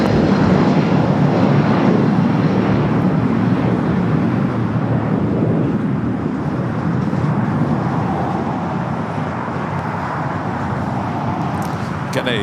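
An American Airlines jet is taking off on runway 25 right at LAX, its steady, loud engine roar holding through the whole stretch, with radio talk over the top.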